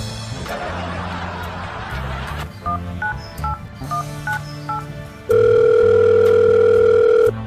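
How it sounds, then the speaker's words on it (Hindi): Telephone keypad tones beep in short bursts as a number is dialed, followed by a loud steady ringing tone; a faint voice underneath early on. "मैं फोन लगाता हूँ, देखता हूँ फोन उठाता है।"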